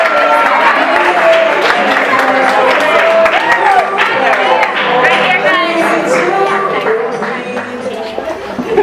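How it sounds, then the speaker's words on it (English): Party guests at a sweet sixteen candle ceremony clap and cheer for several seconds. The applause is steady and fairly loud, with crowd chatter and laughter mixed in. "That's right, give him a big round of applause, everybody."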